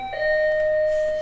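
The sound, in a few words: apartment doorbell ringing in Japan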